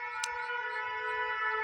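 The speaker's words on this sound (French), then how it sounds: "d'une sirène." A siren wails outdoors in a garden, a steady tonal sound with stacked harmonics holding level and fairly close throughout, with no talk over it.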